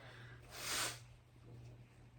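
One wet, congested sniff rises and fades in the middle, with a faint steady hum underneath.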